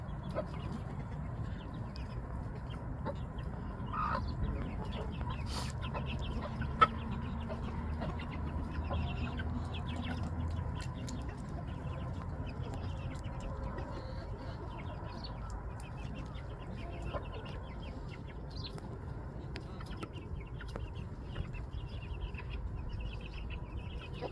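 Young chickens in a coop the day after snowfall cluck softly and intermittently, with a low steady background murmur and occasional faint bird calls across the scene.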